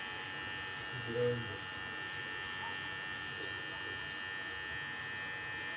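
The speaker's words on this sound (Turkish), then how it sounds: "Sen ne zaman tıraş oldun Osman?" An electric shaver buzzes with a steady, thin, even hum, fairly faint and continuous throughout.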